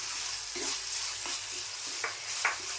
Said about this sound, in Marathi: आता मी ना वाटण केले ते टाकून घेते फोडणीमध्ये